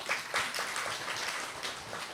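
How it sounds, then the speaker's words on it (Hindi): An audience at a Madhuban night class clapping for themselves, a brief patter of scattered hand claps in a room, moderately loud and lasting a couple of seconds. "कर सकते हैं तो अपने लिए ताली बजाइए"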